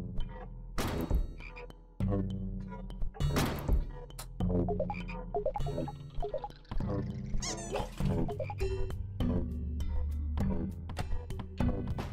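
Cartoonish frog croaks in the HOUSE video game, repeated bursts over a busy, loud game soundtrack with rhythmic tones and thumps throughout.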